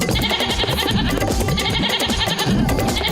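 Cartoon goat bleating amid busy, dense animated soundtrack audio, continuous and loud throughout with no clear speech, set in a milking scene.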